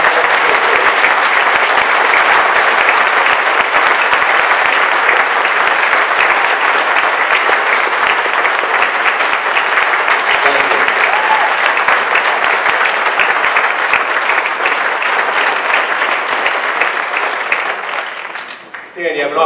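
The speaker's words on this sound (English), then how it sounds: "Let's give Dan a round of applause" A large audience at a documentary panel discussion applauds a military veteran named Dan and rises in a standing ovation. The applause is loud, dense and sustained for about eighteen seconds, then fades out.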